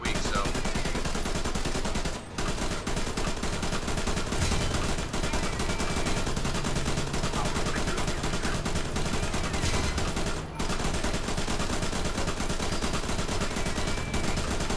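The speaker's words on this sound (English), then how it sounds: "I'm just sitting here taking pot shots" Tank gunfire in War Thunder, a constant loud rumble of battle noise with two sharp cannon cracks standing out, one early and one later.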